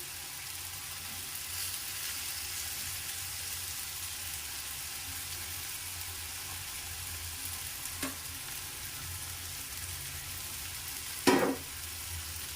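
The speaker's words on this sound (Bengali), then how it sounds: "দিয়ে আমি এগুলোকে ভালো করে কষিয়ে নেব। যতক্ষণ পর্যন্ত না এই কাঁচা গন্ধটা চলে যায়" Spices, green chili and salt fry with softened tomatoes in a pan for an egg and pointed gourd curry, a continuous soft sizzle with a faint scrape and one sharp utensil clink near the end.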